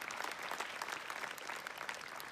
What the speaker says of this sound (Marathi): यांच्यासाठी एकदा टाळ्या वाजवा जोरात